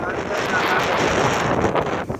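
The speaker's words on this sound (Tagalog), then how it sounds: "Mahangin" Wind buffets steadily and loudly past an open car window while a Toyota Corolla Altis G manual is driven outdoors, a constant rushing roar with no voices.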